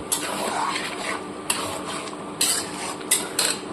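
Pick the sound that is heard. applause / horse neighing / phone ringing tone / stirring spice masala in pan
stirring spice masala in pan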